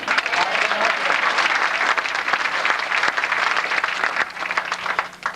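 Loud, sustained applause from a studio audience at the Late Show with David Letterman, dense and even throughout before tapering slightly at the end.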